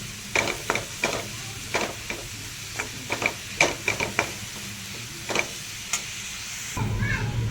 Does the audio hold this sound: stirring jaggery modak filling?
yes